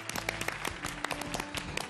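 Studio audience applause for a guest doctor arriving on a Chinese television health programme, a steady mix of many hands clapping at moderate level, with no speech over it.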